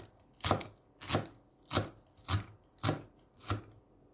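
A knife chops spring onion finely on a cutting board: six crisp, evenly spaced thuds about half a second apart, close and clear with quiet between strokes.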